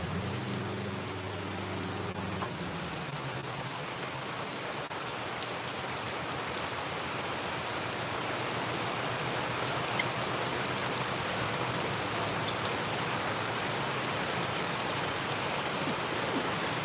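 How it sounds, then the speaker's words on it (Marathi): Heavy rain pours down in Virar, India, in a steady, dense hiss that barely changes. A low engine hum shows briefly at the start, and no one speaks. "अचानक हा पाऊस सुरू झालेला आहे गेले पंधरा मिनटं पाऊस पडतो आहे"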